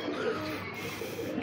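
A pigeon coos softly close by, a low rolling call repeating twice over a faint background hum.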